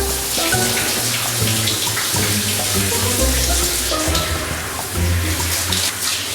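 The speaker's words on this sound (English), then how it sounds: "Hair's nice and wet. Now I'm going to get this wet." Steady shower water runs and splashes for several seconds as hair and a shampoo bar are wetted, a continuous broadband rush with small shifts as the spray hits, close and fairly loud, with no talk.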